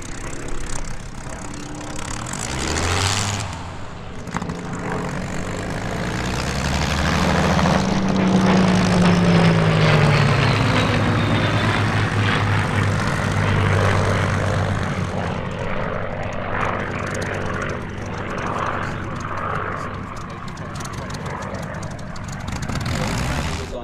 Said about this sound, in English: ML407, sorry, the Great Spitfire, flown by Ben Cox